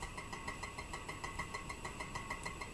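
Bedini bicycle wheel motor running, a continuous mechanical whir with a faint, steady pulsing ping repeating several times a second, low in level and without voices.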